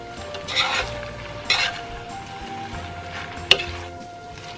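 Noodles for Korean japchae being stirred with garlic and seasonings in a large pot, giving soft scraping and clattering strokes with a few sharper knocks of utensil against metal over a steady low kitchen hum.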